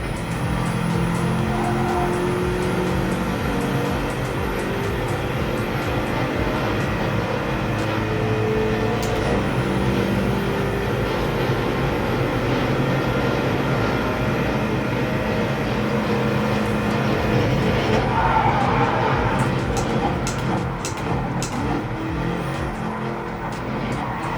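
Racing video game played with a Thrustmaster T300 RS GT Edition wheel, with a car engine droning steadily and loudly around a race track, shifting pitch, with tire squeal and skidding near the end.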